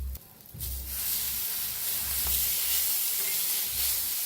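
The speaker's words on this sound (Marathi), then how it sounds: "मस्त असं शेंगदाणा मिरची छान अशी भाजली" Chillies and peanuts roast in a pan, throwing off a steady, close, hissing sizzle that runs throughout with soft low bumps of stirring beneath.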